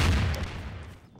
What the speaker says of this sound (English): Rockets. Explosion!